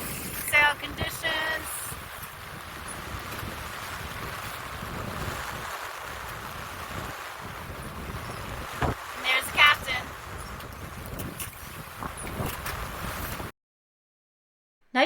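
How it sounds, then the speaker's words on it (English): Wind and waves while sailing a boat near Kiawah and Seabrook: steady, gusty wind roar buffeting the microphone over rushing water and hull slaps, with a voice talking in places before the sound cuts out. "Waves aren't too bad. They're starting to pick up though."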